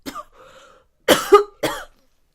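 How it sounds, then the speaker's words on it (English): Several coughs in quick succession, close and fairly loud, with a soft throaty sound between them and no speech. "Or cough a bit."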